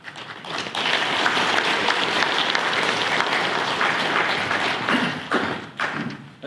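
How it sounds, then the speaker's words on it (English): An audience applauds at the Butler County Employment First Summit, a loud, dense burst of clapping that swells quickly, holds steady for several seconds and then tapers off, with no talking over it. "That's pretty good when you get an applause before you say anything."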